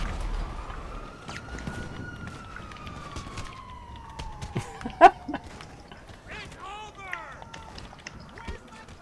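In the video game GTA V Online, a police siren wails in a long, slowly falling sweep and then quicker warbling tones, half buried under voices and scattered game noise.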